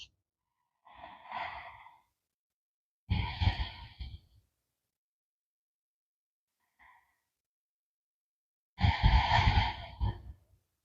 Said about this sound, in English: Using our Ujjayi breath here,